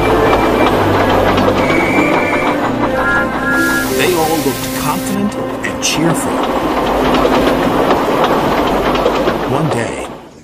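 Toy train engines and coaches roll steadily along the track with a continuous clattering rumble and rhythmic clicks, under a narrator's voice and background music.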